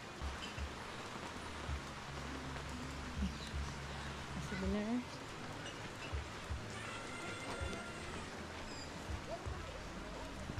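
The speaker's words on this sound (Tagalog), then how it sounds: "Lakas ng ulan." Steady heavy rain hisses throughout on Boracay Island, Philippines, with someone talking over it near the microphone.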